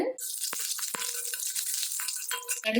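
Mustard seeds splutter in hot oil up close, with sharp little pops and crackles breaking out irregularly over a constant frying hiss.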